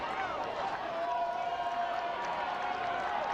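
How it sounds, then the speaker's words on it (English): Stadium crowd at a women's college soccer match between North Carolina and Florida State, a steady roar of cheering and urging for the Seminoles that holds at the same level, loud and continuous, with no voices standing out. "Crowd urging the Seminoles on."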